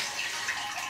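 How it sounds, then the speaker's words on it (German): Plant roots sloshed and swirled in a container of water while rinsing a houseplant, a steady close watery wash with soft splashes and no talking. "Ich rüttel und schüttel das Ganze mal hier im Wasser"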